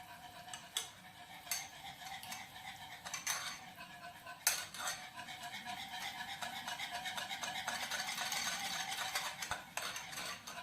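A utensil stirs powdered sugar in a bowl for chocolate tartlets, with steady scraping and clinking that grows denser and more continuous, plus a few sharper knocks against the bowl near the start.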